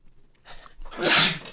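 A single loud, close sneeze set off by dust, with a short gasping inhale followed by a sharp, breathy burst.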